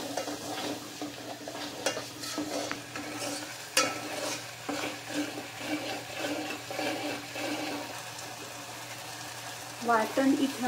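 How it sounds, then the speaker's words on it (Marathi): Ground spice paste sautéing in oil for a raw mango salan, a low steady sizzle with intermittent spatula scrapes and knocks, plus a brief louder clatter near the end. "आता याच्यावर आपण वाटलेलं वाटण घालणार आहोत आणि छान परतून घेणार आहोत"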